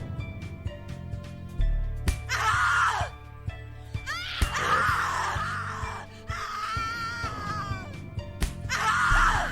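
A victim in the horror video game The Cat Lady screams in repeated, drawn-out wails and shrieks over a dark, droning musical backdrop, loud and close.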